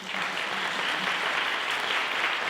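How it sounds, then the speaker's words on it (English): An audience at a talk applauds, a steady, dense burst of clapping that holds evenly for a few seconds. "Can we give her another round of applause?"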